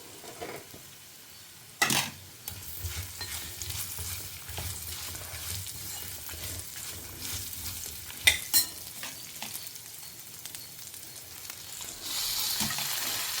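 Spices, asafoetida and coconut roasting in oil in a pan, a steady soft sizzle with a few louder stirring scrapes, close and alone without talk.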